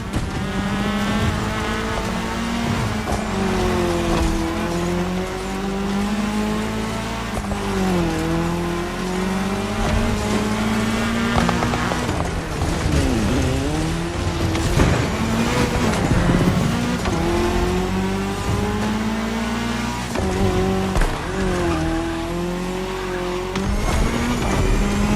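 Racing cars in The Crew Motorfest on a cross-terrain race over tarmac, engines whining and rising through gear changes with tires squealing and skidding, loud and continuous for the whole stretch, no talk.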